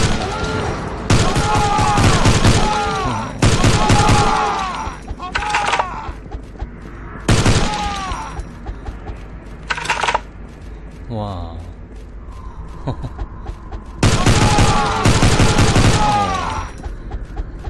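Bursts of sustained automatic gunfire from a zombie-shooting game, Silver Bullet Prometheus, in several loud stretches lasting a second or more, separated by quieter gaps with talking and game sounds.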